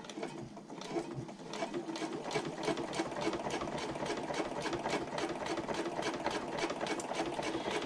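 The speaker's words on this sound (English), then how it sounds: "sew across the bottom of the pocket." Sewing machine stitching across the bottom of a handbag slip pocket, a steady rapid needle chatter running continuously at close range with no talk.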